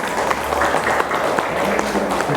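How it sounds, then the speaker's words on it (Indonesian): Parents in a seminar audience giving a round of applause, a loud, even wash of clapping from a crowd filling the room. "Tepuk tangan buat Ibu."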